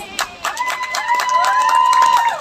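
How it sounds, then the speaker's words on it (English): A debate audience claps and cheers for both teams, with a rising whoop carrying over the noisy applause for a couple of seconds. "Please give a round of applause for both teams."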